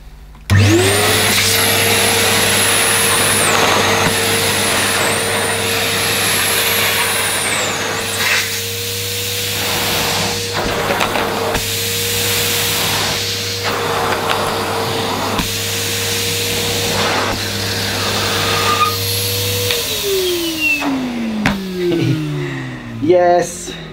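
Numatic Henry 180 Plus vacuum cleaner with a straight-suction nozzle running on plush pile carpet, a steady loud motor whine for about twenty seconds before spinning down, with the nozzle scraping across the carpet.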